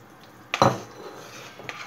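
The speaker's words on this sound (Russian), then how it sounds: "Добавляем щавель." Finely chopped sorrel, about 150 grams, tipped into a soup pot of boiled potatoes and rice for sorrel soup with chicken breast: one brief clattering knock of utensil against pot, then a faint tap later, with no talking.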